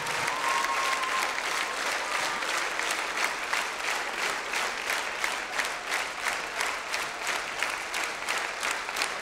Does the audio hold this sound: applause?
yes